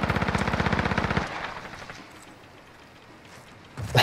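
Gunfire in a Search and Destroy match: a fast, loud automatic burst lasting about a second, followed by a fading echoing tail and quiet, with a sharp blast right at the end.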